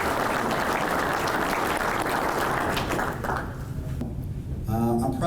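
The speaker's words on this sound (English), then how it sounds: "Let's give them a big round of applause." Applause from the audience at a conference session, loud and continuous across the room, then thinning out toward the end as a voice comes in over the last claps.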